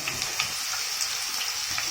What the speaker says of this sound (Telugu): ఇప్పుడు ఇదంతా ఉల్లిపాయ కొంచెం మెత్తబెడితే సరిపోతుంది, అంతవరకు వేయించుకోవాలండి.